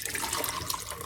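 Seasoning liquid pours into a cooking pot in a continuous, splashy stream of water-like sound lasting about a second, with no talk.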